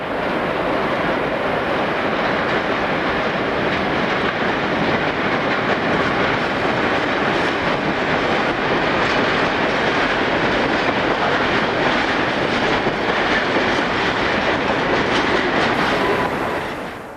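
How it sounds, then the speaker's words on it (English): A French SNCF BB26000 electric locomotive hauls a freight train from Forbach into the southern end of Woippy yard, a loud, continuous rumble of heavy wagons rolling past close by for the whole stretch. "BB26000 arrives at the southern end of the yard with a freight from Forbach"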